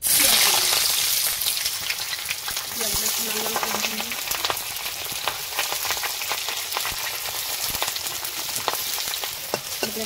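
Two bay leaves dropped into hot oil give a loud, bright crackling sizzle at first that settles into a steady frying hiss with scattered pops and stirring under it.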